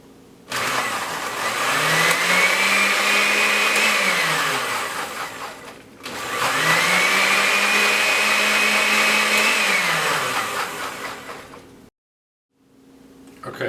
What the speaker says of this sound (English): I'm going to now pulse the spinach to break apart the leaves, the leaf tissue, and also break apart the cells